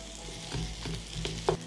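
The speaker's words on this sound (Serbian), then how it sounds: "dodajem beli luk i pržit ću dok luk ne omekša" Onion and garlic frying in melted butter with olive oil give a close, steady sizzle. A few soft stirring scrapes sit on top of it, and no one talks.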